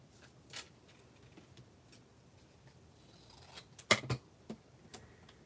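Scissors trim scraps of pink paper for handmade card making, a few quiet, crisp snips clustered near the end after a stretch of soft rustling, faint and close, with no talking.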